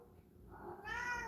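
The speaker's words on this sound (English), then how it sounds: "That's my cat there." A cat gives a single drawn-out meow, close and moderately loud, rising in pitch and ending abruptly.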